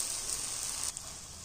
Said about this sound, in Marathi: ती साईड चांगले लाल करून होईपर्यंत आपण याला भाजून घेणार आहोत